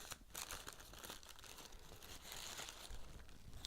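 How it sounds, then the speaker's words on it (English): Packaging around a makeup bronzing powder is unwrapped at close range, giving soft, irregular crinkling and light tearing rustles throughout, faint and without talk. "Carefully unwrap"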